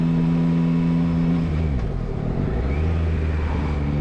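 A 2022 Yamaha MT-09 triple engine drones steadily, then its pitch dips and sweeps through a quick-shifter gear change before settling into a new steady tone, loud and close throughout.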